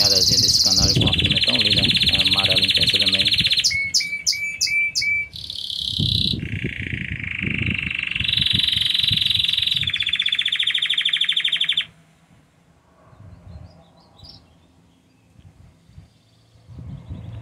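A yellow canary sings loud, close, rapid trills and shrill warbling phrases for about twelve seconds before the song drops away to quieter background sounds.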